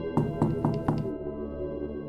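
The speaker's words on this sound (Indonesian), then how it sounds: "Ketukan itu pelan tapi jelas" Four soft knocks on a door in a quiet boarding-house room at night, evenly spaced within the first second, followed by a low steady hum from an air conditioner.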